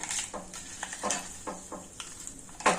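Roasted chana dal (putnalu) being dry-roasted and stirred in a pan, giving repeated scraping, rattling strokes of the dal against the metal in an uneven rhythm, close and moderately loud with a soft background hiss.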